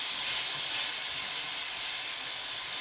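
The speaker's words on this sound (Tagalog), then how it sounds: "saute your onions in" Onions and garlic sauté in a hot pan, giving a short, even, loud hiss and sizzle that runs without pause, with no voices.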